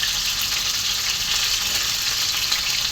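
Galunggong fish frying in hot oil after being boiled with vinegar, garlic, ginger, black pepper and salt, giving a loud, steady, close hiss and crackle that carries on without a break and with no talking.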